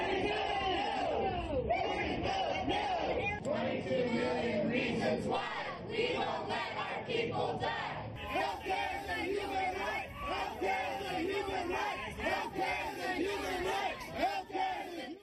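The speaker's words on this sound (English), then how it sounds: "Republican senators are facing increasingly unruly crowds back home over health care" An unruly crowd protests Republican senators over health care, a dense roar of shouting, chanting and cheering voices that surges loud at first and then eases into scattered yells and chatter.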